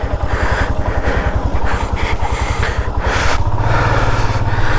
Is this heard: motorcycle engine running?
yes